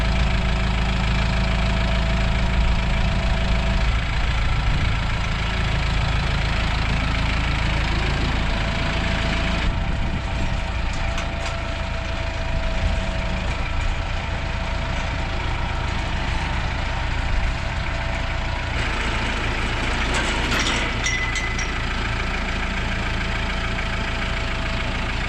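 A truck's engine idles steadily with a deep, continuous rumble and a faint knocking edge, held at an even level for the whole stretch with brief clanks of nearby activity over it.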